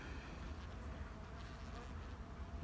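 A single honeybee buzzes softly and continuously nearby at a hive in late November, a faint steady drone without any voices.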